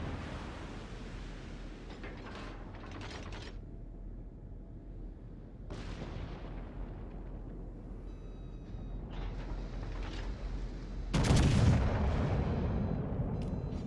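Battleship guns fire in World of Warships, with heavy booming salvos at intervals over a low rumbling sea backdrop, the last blast loudest and closest.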